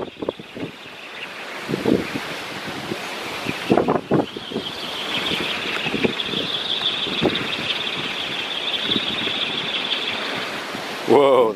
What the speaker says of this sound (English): I've got my finger on the mic to try and cover up some of the wind noise